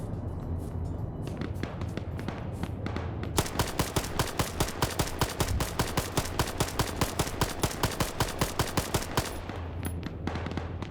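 Rapid automatic gunfire in a PMC-style shooter game, with bursts building into a long, steady stream of evenly spaced shots at close range, then tapering off near the end.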